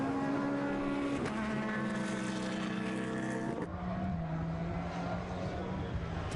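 GT race cars, a Porsche, an Audi and an Alpina, racing at Silverstone in the 2011 Blancpain Endurance Series, with loud close engine whines that hold and then drop in pitch as they pass, with commentary over them.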